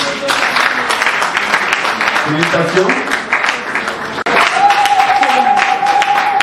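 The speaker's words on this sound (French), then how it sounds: "Applaudissez s'il vous plaît" Steady crowd applause at a training graduation ceremony fills the clip while a voice speaks over it, the clapping continuing without a break.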